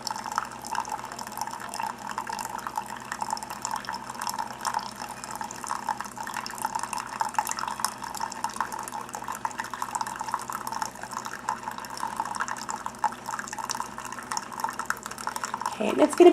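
A Keurig coffee maker streams water from its single spout into a cup, a thin steady trickle with faint dripping and a soft mechanical hum, heard fairly quietly under light talk.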